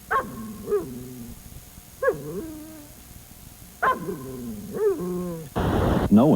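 Puppies on a film set bark, yip and whimper in short bursts spaced across several seconds, close and fairly clear, ending with a noisy rustle.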